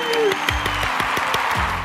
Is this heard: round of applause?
yes